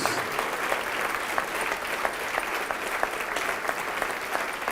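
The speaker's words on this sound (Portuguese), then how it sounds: "E vamos aplaudir mais ao Senhor Jesus" A church congregation during a televised evangelical service applauds in praise, steady moderate clapping from many hands with a few sharper individual claps cutting through, continuous throughout.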